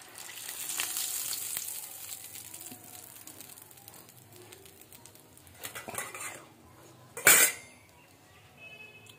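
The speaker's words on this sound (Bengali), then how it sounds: "এবার বাকিগুলো ভাজতে দিতে হয় ফোলানোর জন্য, ঠিক আছে?" Dough fries in hot oil with a steady sizzle, punctuated by metal utensil scrapes and a sharp clatter of cookware near the end, heard close with no talking.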